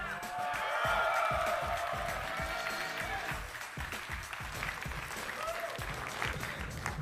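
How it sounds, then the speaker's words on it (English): A packed convention-hall crowd at an IPL4 StarCraft 2 esports tournament applauds and cheers loudly and continuously, a dense wash of clapping that fades slightly partway through. "I'd like to hear some noise here from everybody packed at the convention hall."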